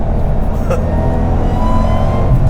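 A Ford Mustang GT500 engine hums steadily with a low, throaty drone in the rain, fairly close, without strong rises in pitch.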